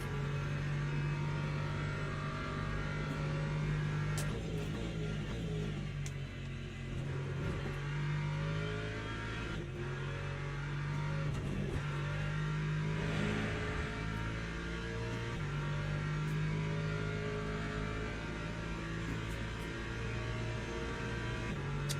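Race car engine in the Le Mans Ultimate sim, in a Daytona daily or a WEC championship race at Monza without the chicane, drones steadily at high revs throughout with a constant loud tone and brief shifts, no voices.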